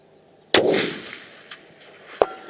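A single sharp report from a CZ 457 stainless synthetic rifle in .22LR, fired at long range outdoors, rings out loud and close with a short decaying tail, followed about 1.7 seconds later by a second, smaller crack.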